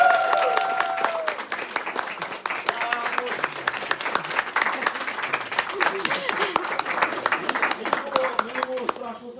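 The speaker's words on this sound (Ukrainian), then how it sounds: "Отже, зараз ми оплесками зустрінемо" Audience in a theatre applauds as a guest is welcomed on stage, with continuous crowded clapping throughout and a host's voice speaking over the start and the end.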